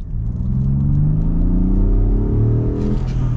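A 2023 Ford F-150 Limited PowerBoost hybrid pickup accelerates, its engine note rising steadily in pitch over a few seconds, loud and close with a smooth whirring rumble and no voices.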